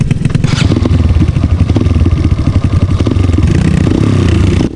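A motorcycle climbs an uphill rocky trail, its engine droning loud and close throughout with rattling clatter from the rough ground, no voices over it.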